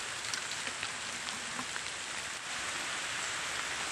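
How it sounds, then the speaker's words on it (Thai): Steady rain hisses down continuously, close and even, with no voices. "ฝนตกนะครับ"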